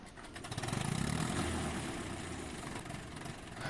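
A C360 small tractor in Farming Simulator 19 cranks and starts, then settles into a steady, rapid chugging diesel idle, loud and close throughout.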